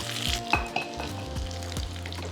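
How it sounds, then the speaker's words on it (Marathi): Garlic tempering for dal sizzles sharply in hot oil, a loud, steady crackling fry with a few quick stirring clinks near the start, close and with no voices. "फोडणीचा आवाज"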